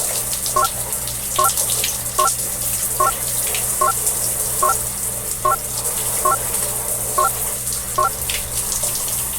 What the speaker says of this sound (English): Why is the water so cold?